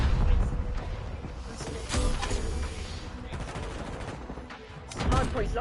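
Dense, continuous hand cannon gunfire and bursts in a Call of Duty Hardpoint match, with overlapping shots and booms rolling throughout at moderate loudness.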